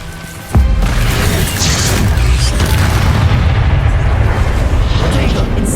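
A fiery spell in the Hogwarts Legacy wizarding video game bursts with a sharp, loud boom, then rolls into a sustained roaring, crackling rush of flame that stays loud and dense to the end.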